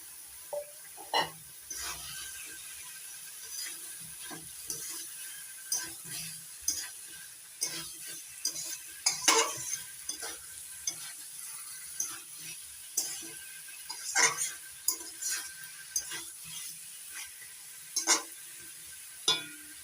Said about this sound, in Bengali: এবার সেদ্ধ করে নেওয়া এঁচড়গুলো দিয়ে দিচ্ছি এঁচড়গুলো দিয়ে আবার একটু কষিয়ে নেবো